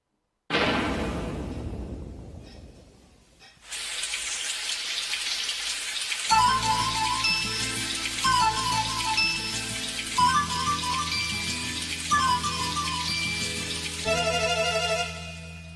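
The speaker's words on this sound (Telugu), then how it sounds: "వాన వెల్లువాయే" Rain falls steadily as a broad hiss, with a clinking tone repeating at regular intervals over it.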